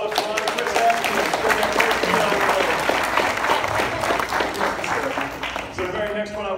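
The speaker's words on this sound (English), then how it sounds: "round of applause for Chris Ackerman" Sustained audience applause fills a stage event where giant checks are presented to real estate coaching partners, dense steady clapping with a crowd murmur, loud and continuous throughout.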